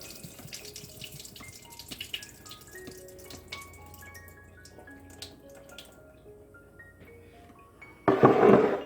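Liquid drained from opened cans of ingredients into a kitchen sink while making garden-style spaghetti sauce; a sudden loud splashing gush arrives near the end after quiet kitchen background.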